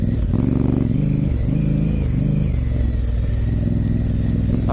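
A 2018 Honda Africa Twin motorcycle is ridden in first gear, with a loud, close engine drone whose revs rise and dip in short swells over constant wind rush.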